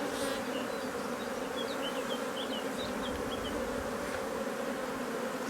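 Honeybees buzz steadily around an open hive during a frame inspection, a close, continuous droning hum with a few higher passing whines from single bees flying near.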